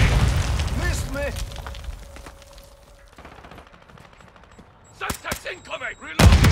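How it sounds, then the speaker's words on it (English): Gunfire in Call of Duty Modern Warfare II, loud bursts at the start and sharp shots again near the end, with a quieter stretch between and voices talking over the action. "Taking effective fire!"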